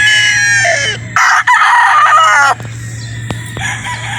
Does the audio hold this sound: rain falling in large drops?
no